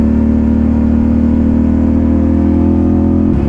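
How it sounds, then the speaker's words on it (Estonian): A car engine idles loudly and steadily with a deep, throaty rumble through its exhaust muffler, rising slightly near the end, close by with no talking. "Ja ma olen kindel, et see summuti on lihtsalt mad hea häälega."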